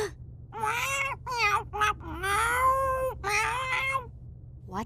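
Cartoon mecha cats meowing in a rapid run of high, wavering mewls, several drawn-out and whiny like an infant crying, close and loud with short gaps between calls.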